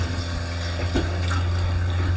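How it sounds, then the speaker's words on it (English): Water draining from a concession trailer's water tank out through the sink, a steady close rushing and gurgling flow with a low hum underneath, constant throughout. "we're draining all of the water out of the tank"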